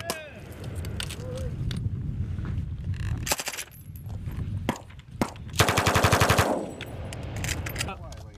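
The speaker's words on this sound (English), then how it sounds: "When you get that 240 up, move up to a rapid rate of fire to the 249." M240 and M249 machine guns firing at a rapid rate during Army team combat training in Africa, sharp bursts of automatic fire, one long rapid string near the end, with soldiers shouting between bursts.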